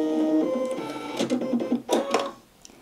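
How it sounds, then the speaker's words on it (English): A Brother sewing machine's automatic self-threading needle mechanism runs through a short whirring, clicking cycle, up close and alone, with a couple of sharper clicks near the end before it falls quiet. "you literally press the self-threading needle and you'll be able to see it threads itself"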